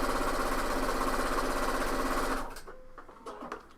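A sewing machine stitches the side seams of a coat in a loud, steady, close whir for about two and a half seconds, then stops, leaving only faint handling noises.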